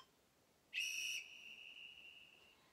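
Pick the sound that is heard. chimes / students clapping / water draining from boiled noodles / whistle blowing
whistle blowing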